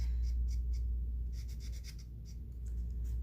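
A pen scratches across paper ephemera in short, quiet strokes and pauses, close by over a low steady hum, with no voices.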